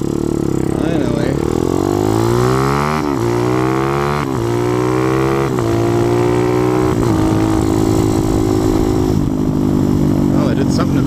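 A motorcycle engine is heard while riding, a loud, close, continuous drone whose pitch climbs and drops through several gear changes, steady throughout with no talking.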